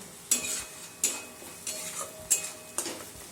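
Spice paste for a bata fish curry cooking in oil in a pan, with soft sizzling and repeated stirring scrapes about every half second to a second, close and moderately loud.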